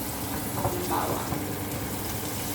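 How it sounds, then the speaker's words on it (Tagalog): Garlic fries in oil for Filipino garlic fried rice, a steady close sizzle with faint stirring scrapes and some low background noise. "Ang bawang muna ay hanggang mag-brown."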